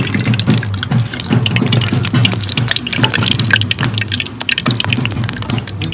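Fafda dough hits hot oil in a home kitchen, setting off a loud, dense, continuous hiss and bubbling crackle that stays close and steady without pause.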